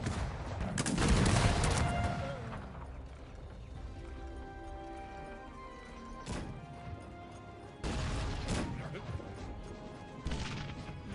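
Bursts of musket volleys in the Cossacks strategy game crack out amid a dense battle din, with a heavy cluster early on and further sharp salvos later, over a layered background of clatter and in-game voices.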